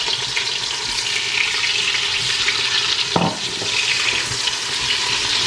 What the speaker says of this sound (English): I have added my oil into my pan here. I'm going to add the onion.